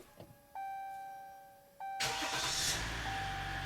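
A 2018 Dodge Ram Laramie, just repaired after a no-crank no-start fault, chimes with dash tones, then its engine cranks and catches into a loud, steady idle close by.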